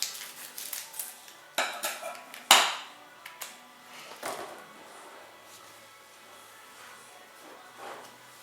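Utensil scraping and clinking against a bowl while stirring a dough mixture with ammonia added, for Catanese rame di Napoli biscuits; a few sharp knocks early, then softer intermittent scraping, close and fairly quiet.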